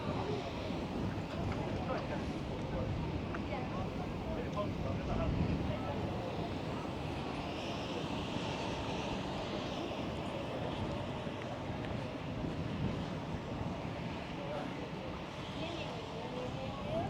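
Wind blows on a sunny seafront at Great Yarmouth near Britannia Pier, a steady broadband rumble and buffeting that lasts throughout.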